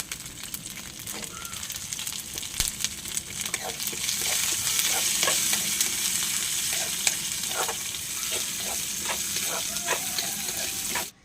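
Raisins sizzle and spit in hot ghee while a payasam is being made, a steady frying hiss that swells after a few seconds, with scattered pops and stirring clicks close by and no talk.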